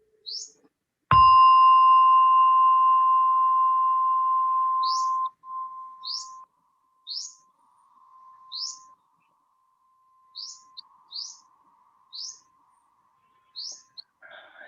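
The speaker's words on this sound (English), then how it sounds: "as you hear the gong, with the sound of a gong" One loud struck gong rings out at the start of a meditation session, its clear tone sustaining and slowly fading over several seconds, while chirping birds call faintly in the background.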